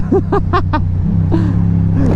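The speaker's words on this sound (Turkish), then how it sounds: "yine düğün arabası" Steady engine rumble of a wedding car passing close by, with a few short honks or tonal bursts early on over the continuous drone.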